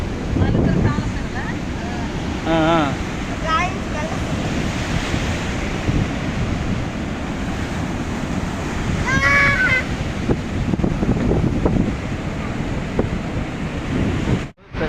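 Water roars out of the 24 open gates of Nagarjuna Sagar Dam as a steady, dense broadband rush, mixed with wind buffeting the microphone and faint voices now and then.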